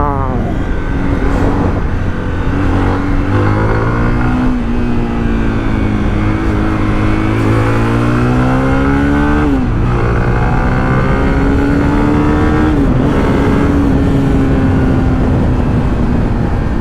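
Zontes 350X motorcycle ridden in race mode, its engine loud and close as it climbs through repeated rising revs with gear shifts, with a voice talking over the engine.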